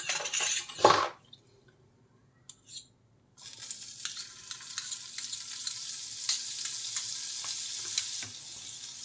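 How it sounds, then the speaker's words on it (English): Butter sizzles and fries in a pan at the start of a gravy, a steady crackling hiss after a few clinks and a brief quiet gap, close and moderately loud. "I'll be adding some butter"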